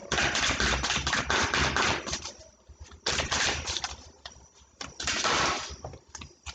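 Tarot cards are shuffled and drawn in bursts of crisp papery flicks and slaps, close and fairly quiet, with short pauses between bursts and no talking.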